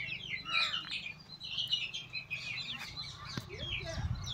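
Young chicks, including a rooster chick of the white parrot-beak breed, cheep in high, rapid, overlapping peeps nearby, with a low background rumble and occasional handling noise.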